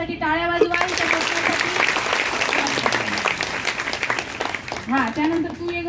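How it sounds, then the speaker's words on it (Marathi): A school audience applauds a student in sustained, fairly loud clapping, with a voice speaking over it at the start and end. "हिच्यासाठी टाळ्या वाजवा."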